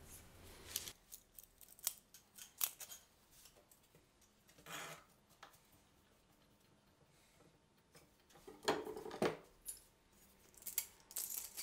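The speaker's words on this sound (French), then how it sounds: "Et puis on prend les serre-joints pour fixer les coins." Clamps fastened onto the corners of a shelf during a DIY customisation, giving sparse metallic clicks and ratcheting snaps close by, separated by quiet gaps.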